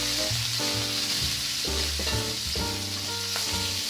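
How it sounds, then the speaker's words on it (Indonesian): Chilies stir-fry in a pan for Indonesian green bean oseng, a close, loud, constant sizzle with a dense ringing, tonal edge throughout. "sekarang aku mau tumis cabenya buat oseng buncis"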